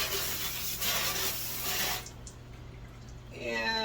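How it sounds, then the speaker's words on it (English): Chicory roots rinsed under running water after their dirt is brushed off, with rubbing and splashing for about two seconds, then a quieter pause before the water rushes again. "We're going to rinse these real thoroughly until there's no more dirt left on them."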